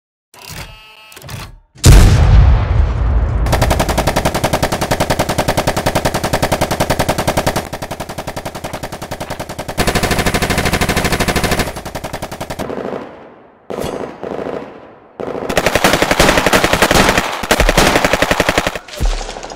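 Loud, sustained machine-gun fire as sound effects for a toy army men stop-motion battle, long rapid bursts with a boom near the start and brief gaps between volleys.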